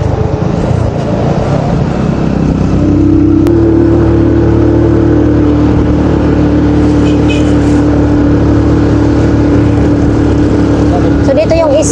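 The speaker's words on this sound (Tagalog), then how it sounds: "Ang motor." Motorcycle engine drones steadily while riding along a roadside past rice fields in Masbate, Philippines, a loud, close, continuous hum with wind rush throughout.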